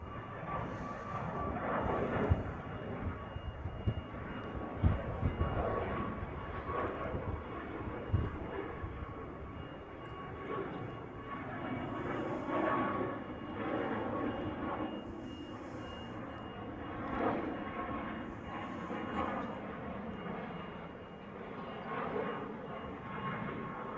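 A plane makes a very steep departure from a Hawaii airport toward Maui at sunset, a continuous distant engine roar with a steady whine over outdoor ambience, faint voices and other noise mixed in.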